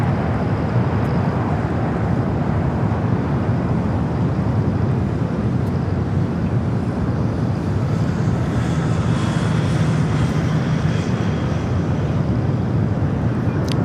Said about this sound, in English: Hawaiian Airlines Flight 867, coming from Salt Lake City, was going to Honolulu, A321 NEO, diverting here.